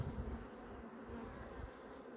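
Honeybees buzz steadily at an opened hive during an inspection of weak, Varroa-damaged colonies, a low, continuous drone close by and fairly quiet, without talk over it.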